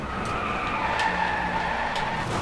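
Tyres squeal and skid continuously as a car drifts in the racing video game Driveclub on PlayStation 4, a loud sustained screech over steady engine noise.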